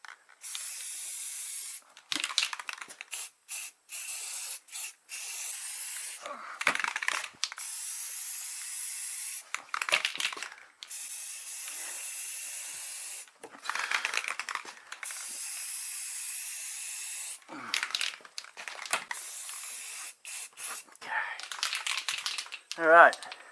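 Aerosol spray paint coating 1996 Ford Mustang parts black in a garage, repeated hissing bursts of a few seconds each with short pauses, close and steady, ending in a brief rattle.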